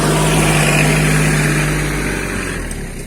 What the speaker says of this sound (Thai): ใช้รถไถดันเอาเลยเขา ประหยัดงบประมาณนะครับ